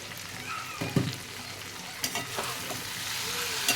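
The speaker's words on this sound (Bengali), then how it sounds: "ভালো করে কষিয়ে নিয়েছি ডাঁটা আলুগুলোকে" Drumsticks and potatoes fry in spices in a pan, giving a steady close sizzle broken by a few scraping stirs.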